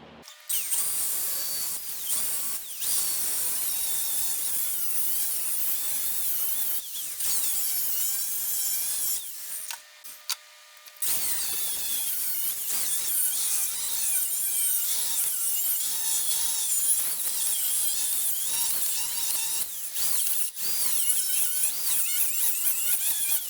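An angle grinder cuts through a steel transfer case mount piece for a Wagoneer, a loud, continuous high-pitched grinding whine with brief dips and one short break before the cutting resumes, close and alone.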